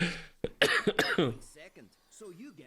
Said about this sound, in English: Here's that cough I'm talking about.